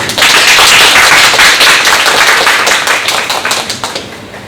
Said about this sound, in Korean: 환영의 박수합니다